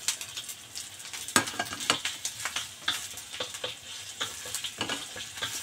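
Garlic, ginger and crab stick sauté in a hot pan for a stir-fry with asparagus, a steady sizzle broken by repeated sharp scraping clicks of a utensil stirring, close and fairly loud.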